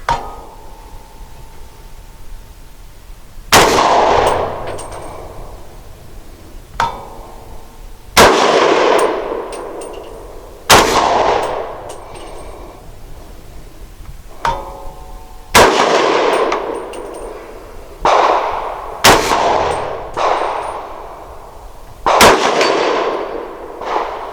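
An unsuppressed 300 Blackout rifle fires subsonic 220 grain Remington UMC rounds. About ten sharp, loud reports come at irregular intervals of one to three seconds. Each is followed by a ringing, echoing decay, and no one speaks.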